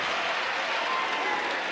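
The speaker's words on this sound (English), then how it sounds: "And the crowd whoops it up for Hubbard." A basketball crowd at a Duke versus Miami game whoops and cheers for Hubbard, a dense, loud, continuous roar of voices and clapping that fills the whole moment.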